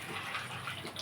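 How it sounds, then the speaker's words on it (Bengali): Hot water gushes steadily into dal in a clay pot, a soft, continuous pour lasting about a second. "এবারে আমি দিয়ে দেব গরম জল।"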